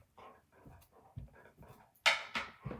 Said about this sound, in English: My dog is currently trying to get his forbidden Facebook Live toy off of the chair that I put it on earlier.